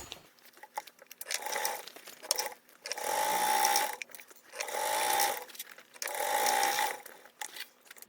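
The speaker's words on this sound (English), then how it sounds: "we're going to sew that together with a 3/8 seam allowance" A sewing machine stitches a large foldable tote bag seam in three sustained runs, each a steady mechanical whir separated by short pauses and handling noises, close and loud with no talking.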